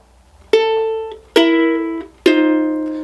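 Ukulele playing the short pickup phrase of a song, three distinct strummed chords about a second apart, each ringing and decaying, close-miked and unaccompanied.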